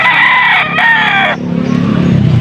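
A rooster crows loudly and close by at a market in Pampanga, Philippines, its call breaking off sharply, then rough outdoor noise follows.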